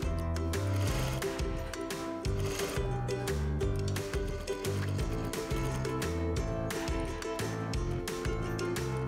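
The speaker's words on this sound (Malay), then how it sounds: "Laraskan mata jahitan mesin kepada 5. Kemudian jahit di atas dan di bawah garisan pemadan." A sewing machine set to stitch length 5 sews fabric above and below the matching line, whirring in steady bursts with rhythmic needle clatter, close and continuous with brief pauses and no talking.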